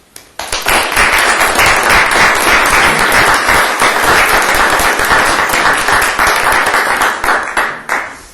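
A crowd bursts into loud, sustained applause as speaker Jim Brady is welcomed, dense clapping starting abruptly and holding strong for several seconds before tapering off.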